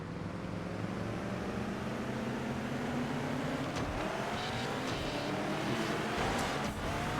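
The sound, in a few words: muscle car engine in a video game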